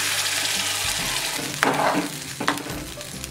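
Ground roasted masala paste sizzles loudly in hot oil with shallots and curry leaves for sambar rice, a steady frying hiss broken by a few sharp stirring scrapes, close up with no talking.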